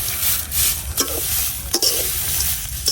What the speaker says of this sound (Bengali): লবণটা দিয়ে এখন একটু লাড়াচাড়া করে নিলাম